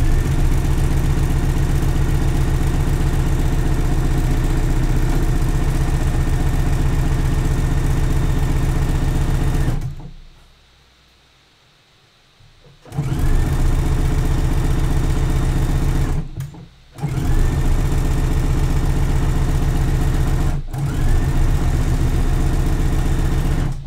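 A sewing machine stitches the side seam of a swimsuit, its steady motor hum and needle drive running loud and continuous, stopping for a few seconds of near silence midway, then resuming with brief pauses.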